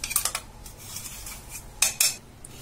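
Crushed Oreo biscuit powder, cream included, goes into a bowl for homemade Oreo ice cream, with light clinks of a spoon against the dish in a few quick bursts, close and fairly quiet.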